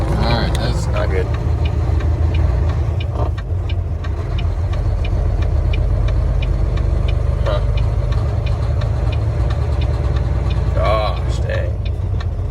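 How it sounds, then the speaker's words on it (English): Semi truck diesel engine running rough with a suspected faulty fuel injector, a steady low drone with an irregular ticking, heard from inside the cab under the rumble of driving, with occasional brief knocks. "It only sounds like an injector or something."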